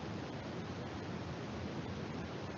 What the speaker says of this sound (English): it's going to play some white noise to make it really obvious that an audio redaction took place